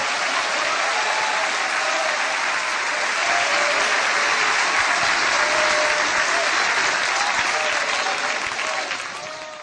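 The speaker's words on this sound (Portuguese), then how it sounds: "Glória a Deus com palmas," A large church congregation claps steadily and loudly for several seconds, a dense wash of applause that fades slightly at the end.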